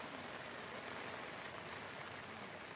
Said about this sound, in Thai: บ่ายสองครับฝนลงแล้ว โดนฝนอีกแล้วครับ